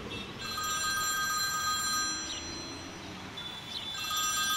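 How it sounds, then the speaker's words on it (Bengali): An old-style telephone bell ringing in the next room as a sound effect in a Bengali detective audio drama: two bursts of trilling rings over a soft steady hiss, with a brief pause between them. "এমন সময় পাশের ঘরে টেলিফোন বেজে উঠল।"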